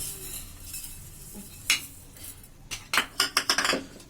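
A spoon stirs fruit chaat with guava, sugar and chaat masala in a bowl, giving close, sharp clinks and scrapes against the dish that quicken into a rapid rhythmic run near the end.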